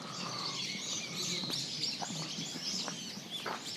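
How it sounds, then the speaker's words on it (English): Several brown-eared bulbuls call outdoors in Kyoto, sharp high chirps and squeaky notes scattered over a soft, steady background hiss. "Lots of brown-eared bulbuls, which are a large gray bird that are very aggressive and noisy"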